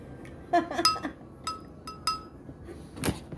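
Spoon clinking against a glass while stirring a barley drink, a few separate bright chinks spread out in time, close and clear over quiet room tone.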